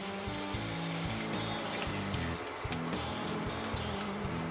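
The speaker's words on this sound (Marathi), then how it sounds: "आलं लसूणची पेस्ट छानपैकी मी तेलावर परतून घेतली आहे" Ginger garlic paste sautéing in oil for bread tikki stuffing gives a steady, close, broadband sizzle and hiss, with rhythmic low clanks from stirring running through it, and no talk.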